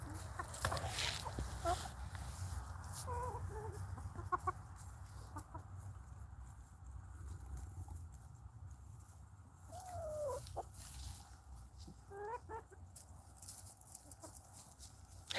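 Young silkie cross chickens cluck and chirp softly throughout, faint and somewhat distant, with scattered short calls over a quiet farmyard background.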